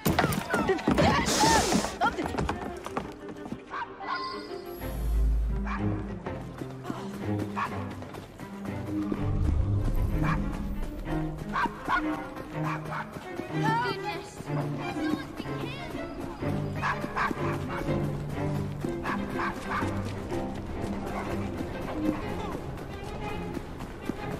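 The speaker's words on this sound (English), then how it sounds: "nice doggy." Dog barking in Assassin's Creed Syndicate, set in Victorian London, heard in repeated yips and barks amid busy game audio with music, hoofbeats and someone talking.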